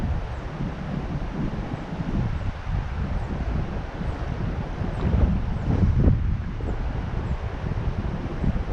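Steady wind blowing outdoors beside a trout stream during a late afternoon hatch, a continuous rough low rumble of gusts buffeting the microphone, swelling briefly louder midway, with no voices.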